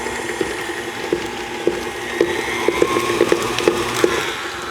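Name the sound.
mixing eggs and vanilla into butter and sugar for cookie dough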